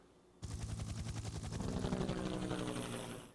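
A chopper sound effect bursts in abruptly and loud, a rapid pulsing rotor-like thudding that keeps going steadily for about three seconds before easing slightly.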